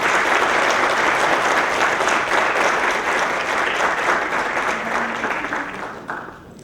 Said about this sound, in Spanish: les pido un muy fuerte aplauso para todos los que me acompañan esta mañana